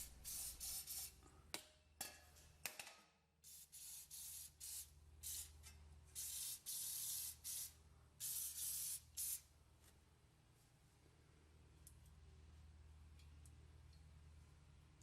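Rust check is sprayed onto Hyundai Sonata brake parts in short, close aerosol hiss bursts, several quick blasts followed by a few longer sprays, then a quiet background.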